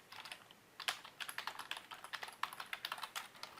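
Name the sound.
typing host address on a computer keyboard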